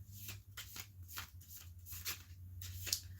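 Playing cards riffled and shuffled repeatedly during an energy reading, a series of crisp papery bursts roughly every half second over a low steady hum, close and moderately quiet.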